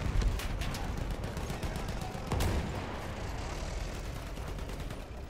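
Gunfire in the video game Battlefield 1: a rapid string of crisp shots crackling at the start, then a heavier report midway, over constant battlefield din.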